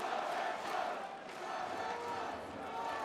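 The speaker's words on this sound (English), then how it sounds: "The Polish fans are standing up now and cheering in the stands." Polish handball fans cheer from the stands at a European Championship match against Russia, a loud, continuous roar of crowd voices filling the arena without a break.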